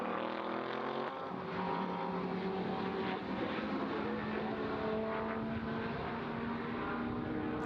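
Race car engines, including an Audi, roar past on the Mugello circuit, loud droning revs that rise and fall as cars shift and overtake, continuous and fairly close.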